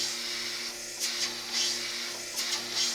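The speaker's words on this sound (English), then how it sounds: "I'm going to just run this nice and slow after I turn on the vacuum" The vacuum on a RapidColor Napkin Pro printing machine runs with a steady whooshing hum and a low motor drone. Periodic airy surges come through, and no voices are present.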